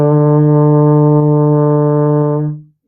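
A single sustained D on a baritone horn, a steady, full brass tone held for over two seconds before it stops cleanly, played alone and close.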